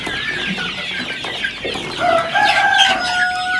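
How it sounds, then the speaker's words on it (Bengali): Several desi chickens cluck and murmur steadily at close range while pecking at their feed, with a few higher calls rising toward the end and no talking. "খাবারটা অনেক মজাদার মুরগিরা মজা করে খায়"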